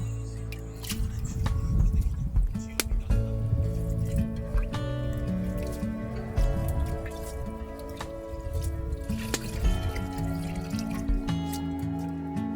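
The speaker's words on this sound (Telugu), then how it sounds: "బియ్యం వేసేసుకుంటున్నాము. ఆల్రెడీ ముందుగా నానబెట్టి పక్కన పెట్టుకున్నాము బియ్యం." Pre-soaked rice is tipped into a pot of chicken biryani cooking in liquid, giving wet dripping, squishing and splashing sounds that continue steadily throughout at close range.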